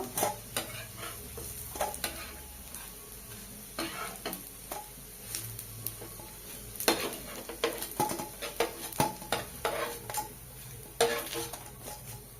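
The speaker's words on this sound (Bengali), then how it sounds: "পালং শাকের বড়া মুচমুচে করে ভেজে নিয়েছি, তুলে নেব।" Spinach fritters sizzle in hot oil while a utensil stirs and scrapes the pan, giving irregular clinks and scrapes over a soft, steady frying hiss at close range.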